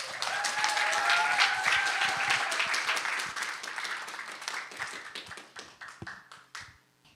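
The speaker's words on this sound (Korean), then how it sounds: "박수로 맞아주시기 바랍니다." An audience at a 2025 Korean-language speech contest for international students applauds a speaker coming to the stage, brisk clapping that starts full and gradually thins into scattered claps before dying out.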